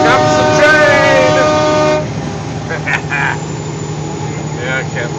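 A multi-tone train horn sounds from a truck's satellite radio for about two seconds, loud and close, then cuts off, leaving a low rumble with a person talking over it.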